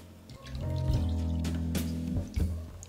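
Tamarind water, tamarind squeezed into water, is poured into a pot for brinjal and drumstick sambar, a close gurgling, glugging stream that swells and then trails off into drips.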